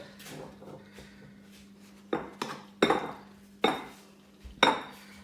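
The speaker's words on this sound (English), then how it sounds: "Just going to get it back out of the oven. I'm going to pop it in a bowl." Pulled pork lifted out of an oven and tipped into a bowl, with a run of loud, sharp clanks and clinks of metal cookware and crockery spaced across the second half, over a quiet kitchen hum.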